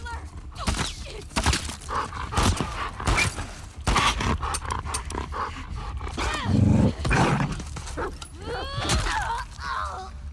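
A dog barking, snarling and growling in The Last of Us Part II during a tense ambush fight, with loud repeated barks and growls mixed with voices talking over the action.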